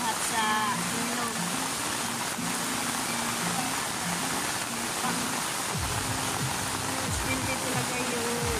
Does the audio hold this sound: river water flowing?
yes